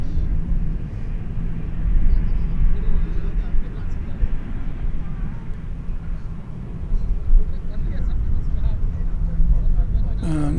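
An airliner takes off from runway 18 left at DFW Airport, its broad low engine roar steady and fairly loud throughout, with radio talk and people speaking over it.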